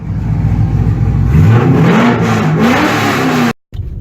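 A loud straight-piped Chevrolet Camaro engine revs hard and close, its deep exhaust rising in pitch before cutting off abruptly near the end, followed by a brief restart of noise.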